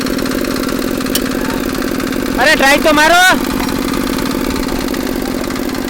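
A tractor engine idles steadily at mid pitch throughout, with a voice briefly rising over the running engine in the middle.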